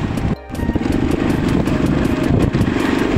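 A motorcycle engine runs steadily while riding on a highway, with a dense low rumble and wind noise throughout and a brief dip near the start.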